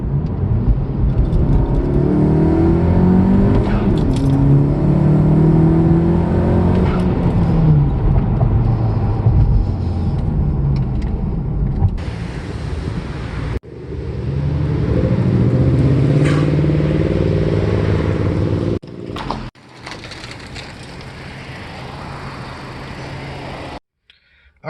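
A turbo-swapped Honda Civic FK7 rips hard through the gears, its engine droning and rising in pitch under load, easing briefly between pulls, heard from inside the car at close range with no talking.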